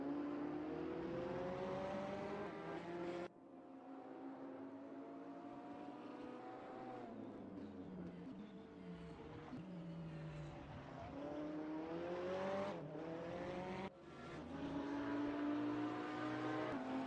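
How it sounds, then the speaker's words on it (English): Race cars lapping Twin Ring Motegi East in a mid-engine racing video game, engines droning and shifting pitch steadily throughout, with two brief dips where the engine note cuts before climbing again; loud and continuous with no talk. "enjoy the sounds of the cars here for a little bit"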